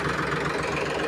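A new Sonalika tractor engine idles close by, a steady, even mechanical drone with no talk.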